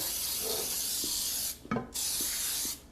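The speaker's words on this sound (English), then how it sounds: "This is the Pam baking spray." Pam baking spray is sprayed into a cake pan for a caramel pecan apple cake. Two close, steady hissing bursts are heard, separated by a short gap with a faint clink.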